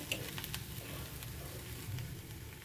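Fried vermicelli (sewaiya) is stirred and mixed in a hot pan with tomato ketchup, giving a steady low sizzle with soft scraping and pattering textures throughout, fairly quiet and with no talking.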